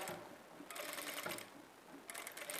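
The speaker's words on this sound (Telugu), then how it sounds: "మీరు ఇలా స్టిచ్ చేసుకునేటప్పుడు బకరం పీస్ మీద పడకుండా ఈ బకరం పీస్కి పక్కనే వచ్చేలా స్టిచ్ చేసుకోవాలి" A sewing machine stitches a dress neck beside a buckram piece, a quiet rapid mechanical whirring in short bursts with brief pauses between them.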